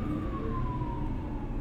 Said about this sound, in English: There's a fire truck going by or something.